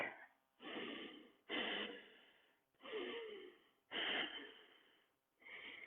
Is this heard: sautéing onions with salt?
no